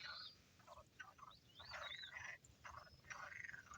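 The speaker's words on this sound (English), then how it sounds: "The frogs, as you can hear," Frogs croak in a pond in breeding season, with repeated, overlapping rasping calls in quick bursts, fairly faint and at a moderate distance.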